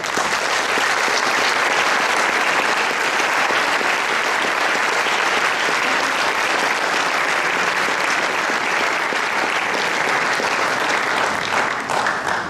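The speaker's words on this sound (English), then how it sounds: "so that we may give you a well-deserved and great round of applause" An audience at an NHS induction ceremony gives invited guests a long round of applause; the clapping is dense, loud and steady for about twelve seconds without any break.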